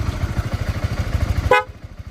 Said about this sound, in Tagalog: So ito naman guys yung busina nito, no.